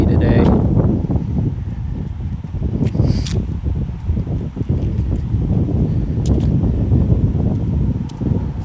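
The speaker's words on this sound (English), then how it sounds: "I hope the wind's not too much. I'm sure it probably is because I'm walking right into it" Wind gusting steadily across the microphone on a fall walk through Fairview Park, a dense low rumbling roar that persists close and loud throughout, with brief rustles and bumps.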